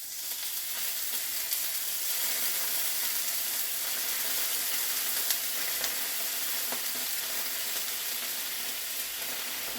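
Ramen noodles frying in a pan with water and oil, a steady loud hiss and crackle of sizzling that carries on without a break, close up with no voices.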